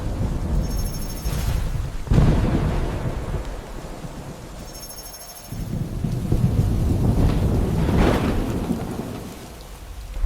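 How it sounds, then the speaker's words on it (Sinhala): Heavy rain pours steadily during Cyclone Ditwah, with rumbling thunder swelling and fading beneath the downpour, heard with no talking. "අර බලන්න වහිනවා"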